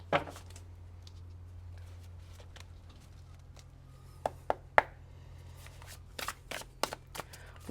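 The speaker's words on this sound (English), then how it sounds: "We'll give your clarifiers a bit of a shuffle" Tarot cards being shuffled close by in a quiet room, soft riffling flicks and sharper snaps scattered across the clip, clustering into quick bursts near the end over a low steady hum.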